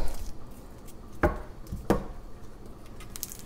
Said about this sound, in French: Donc, je vais couper l'oignon